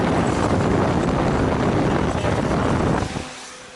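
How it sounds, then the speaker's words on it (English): An Acura MDX air conditioning fan running at high speed, a loud steady broadband roar that dies down abruptly near the end, with no talking. "You probably couldn't hear a word I just said with that fan going in your ears"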